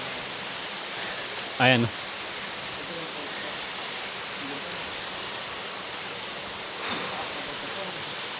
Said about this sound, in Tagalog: Napakataas, napakaganda ng nakatagong falls dito.